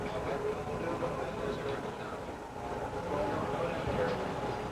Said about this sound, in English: We hear a jet engine.